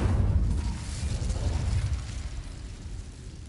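An incendiary spell explosion in a Hogwarts Legacy-style video game bursts as a deep, rumbling boom that rolls on and gradually fades over several seconds.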